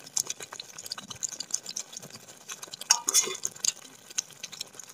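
Fried onions stirred into a pan of soybean curry, with soft, irregular scraping and clinking of a spoon against the pot over a faint sizzle, close and continuous.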